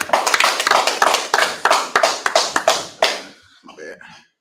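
A class claps hands together, about a dozen sharp, uneven claps in a quick burst that fades out, followed by a few brief voices.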